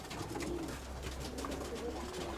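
Pigeons coo softly in low, rolling calls over a steady background hum.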